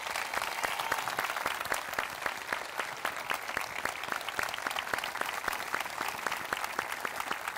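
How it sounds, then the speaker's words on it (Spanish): Steady, sustained applause from an audience at a parish evening event, dense overlapping claps heard from a distance and at low level, continuing evenly throughout. "vamos a pedir ese fortísimo aplauso"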